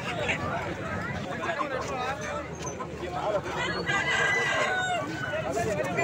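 Chickens and a rooster at a busy outdoor poultry market in Vadalur, with the rooster crowing and hens clucking amid a constant murmur of people talking and bargaining nearby.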